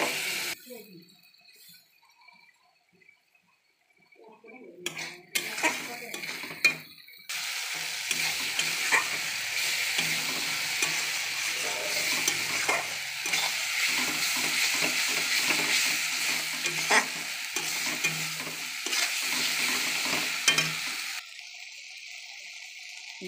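Mustard paste frying in a pan with melted tomato and spices, a loud continuous sizzle and hiss with stirring scrapes running through most of it after a quieter start; a voice can be heard briefly.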